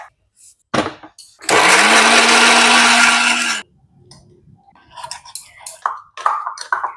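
Kitchen grinder blitzing chopped tomatoes, a loud steady motor whine lasting about two seconds, preceded by short clattering knocks and followed by quieter handling clinks and rustles.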